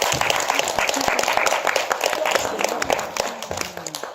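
Audience applause after a children's Christmas concert performance, many hands clapping steadily at close range, the sound thinning toward the end.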